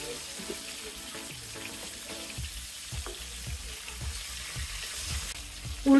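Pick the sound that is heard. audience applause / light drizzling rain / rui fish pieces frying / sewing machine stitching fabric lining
rui fish pieces frying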